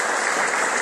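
Dense applause from a synagogue audience, steady and loud throughout the short burst, many hands clapping together with no voices rising above it.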